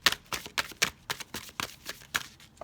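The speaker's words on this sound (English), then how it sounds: "I keep shuffling until it comes out" Tarot cards being shuffled by hand in a steady run of crisp riffling bursts, close and fairly loud, about ten quick rustling strokes with no talk over them.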